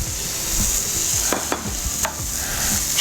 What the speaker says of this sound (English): Stir our chorizo. The chorizo's working its way in there.